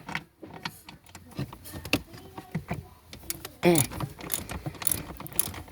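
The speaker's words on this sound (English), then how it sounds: "So we're gonna pull this support bolt right here, and then pull the next one right here." A ratchet wrench loosens a steering support bolt on a car's steering system, giving quick clicking ratchet bursts and metallic clanks, close by and moderately loud, with a voice speaking intermittently.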